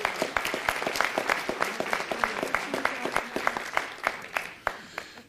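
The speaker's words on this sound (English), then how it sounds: "Give her a nice round of applause." An audience at a city council meeting gives a round of applause, crisp rhythmic clapping from a modest crowd, close and steady for several seconds.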